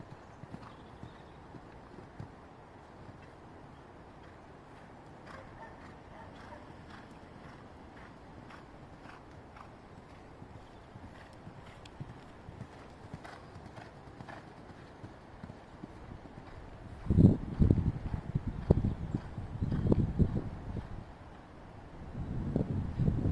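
Pony hooves during jumping training, faint, muffled footfalls under wind noise for most of the clip, then louder, closer thuds and clatter in the final seconds.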